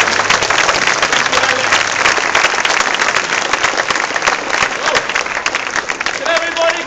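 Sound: crowd applauding

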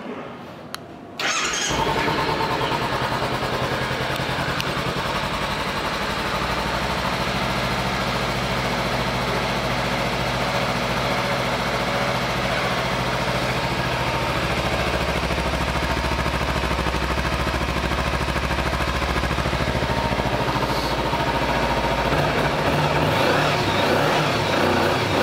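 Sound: 2016 Kawasaki Ninja 300 ABS motorcycle engine idling

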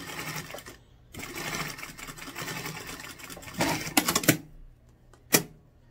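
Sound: sewing machine stitching a backstitch

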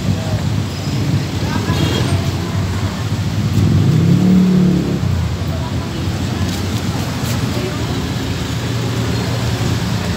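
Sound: road traffic noise from inside a moving car

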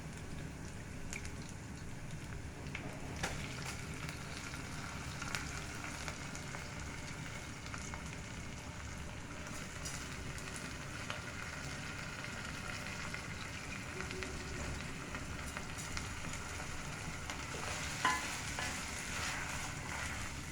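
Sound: rice being stir-fried in a pot for pulao

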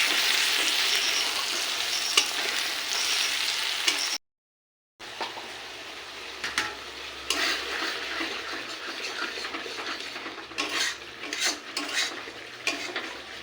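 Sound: frying in a pan

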